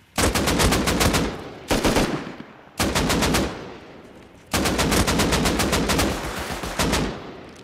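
Rapid automatic gunfire in the video game Rust on PS5 PvP, loud close bursts separated by short gaps, each burst a fast run of sharp shots.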